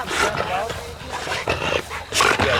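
Hog-hunting dog on a caught wild pig makes rough growling and snarling bursts at close range, mixed with shouting voices and scuffling over a few seconds.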